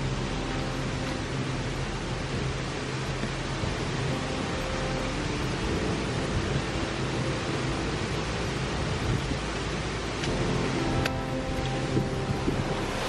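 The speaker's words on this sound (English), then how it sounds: "with the river flowing across these boulders, creating little rapids" A river rushes over boulders, forming small rapids at Beauchamp Falls. The broad, steady roar of water runs close and unbroken, with no voices.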